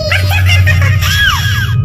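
Cartoon bird character letting out a high, shrill scream that rises and wavers for nearly two seconds, loud and close over a low steady hum.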